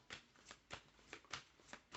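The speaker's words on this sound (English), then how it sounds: "I'm going to go on and just shuffle up my deck here." A deck of Conjure oracle cards is shuffled by hand in about seven quick, evenly spaced riffling bursts, close but quiet, with no talking.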